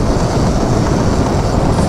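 A passenger train rumbles along in a loud, continuous roar of wheels and carriage noise, heard close up from on board with no talking.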